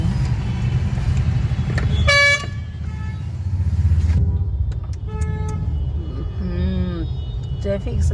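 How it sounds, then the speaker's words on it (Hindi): Congested traffic on a Jaipur road: steady engine rumble with several short car horn toots, one loud honk standing out, other vehicles honking intermittently around, and voices in the car talking over the noise. "ट्रैफिक में फंस गए।"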